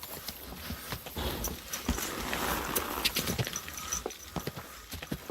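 Horse hooves clip-clop at a walking pace in the medieval video game Kingdom Come Deliverance 2, an even rhythm of clear, fairly close steps with no talk over them.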